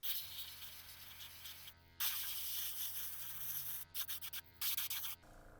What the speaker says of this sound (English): I'm just going to be spraying it where our yellow is still showing